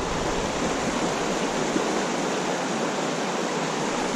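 Steady, broadband rushing of a mountain creek flowing over rocks, close and constant with no pauses, no voices over it.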